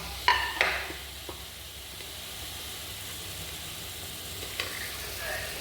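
Onion sautés in a pan as ginger, garlic and tomato go in for a chicken curry, a low steady sizzle opened by a couple of sharp clatters, with another faint clank near the end.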